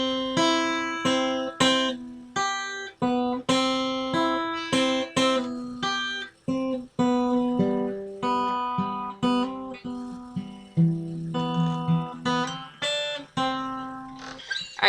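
Slow fingerpicked acoustic guitar playing a song, single plucked notes ringing out clearly one after another at an unhurried pace, close and alone with no voice.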